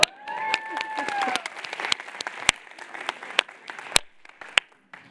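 Audience applause at a closing show of a social work congress: dense clapping with scattered sharp individual claps and some voices, loud at first, then thinning out and fading over about five seconds.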